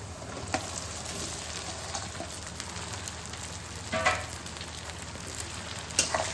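Onions and muthiya frying in a pan, a steady close sizzle with soft stirring scrapes and a few sharper pops and clinks of utensils against the pan.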